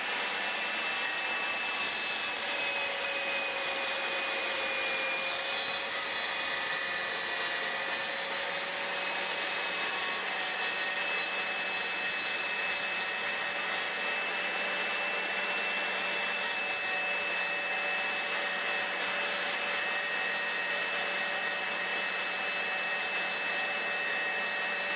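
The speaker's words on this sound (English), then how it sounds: "Holding the workpiece against the rip fence, slowly feed the workpiece into the saw." A GMC MS018 laminate saw runs as a workpiece is fed along the rip fence, a steady high whine with rubbing, cutting noise held for the whole stretch at fairly even loudness.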